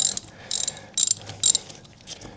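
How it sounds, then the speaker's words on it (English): A socket wrench works the oil drain plug loose on a KLR 650 motorcycle, giving three or four sharp bursts of ratcheting clicks at close range with short pauses between them. "You get your drain plug's socket on the end of a wrench, get it up on that drain plug, and break it loose"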